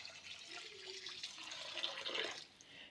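Water being poured into a cooking pot for a one-pot chickpea biryani, a steady splashing pour of about three seconds with no talking.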